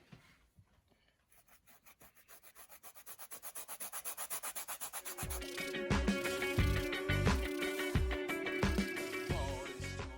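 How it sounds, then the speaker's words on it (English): Orange zest grated on the fine-holed surface of a multi-sided grater: rhythmic rasping strokes start faint and grow steadily louder and faster, becoming a close, scratchy scraping in quick repeated passes, with no talk. "most of what you grate, all the zest will come out on this side"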